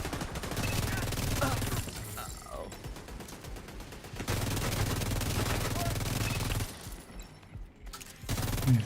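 Video game turret fire rattles in sustained rapid bursts, loud and mechanical, broken by short pauses between volleys, with a player's voice heard now and then.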